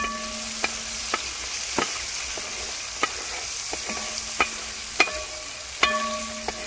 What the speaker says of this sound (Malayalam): നന്നായിട്ട് മൂത്തു നമുക്ക് അതിൻ്റെ അകത്തേക്ക് വെണ്ടയ്ക്കും തക്കാളി ഇട്ട് കൊടുക്കാം